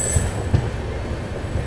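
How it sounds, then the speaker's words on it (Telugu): Dharmavaram Express train at Gudivada Junction station, a short stretch of low rumbling rail noise with a couple of soft wheel clunks and a faint high whine, steady and moderately loud with no talk. "Gudivada junction railway station 3rd halt అవుతుంది మన ధర్మవరం ఎక్స్ప్రెస్కు"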